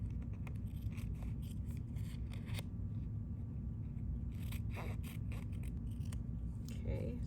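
Scissors snip steadily through fabric pattern pieces, cutting along the marked line, with a repeated scraping, rasping texture over a continuous low background hum.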